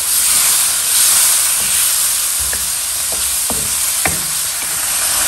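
Chicken pieces fry in a pan for shorba, a loud, constant hissing sizzle with a few soft scraping stirs tapping through it, close up and steady throughout, no speech.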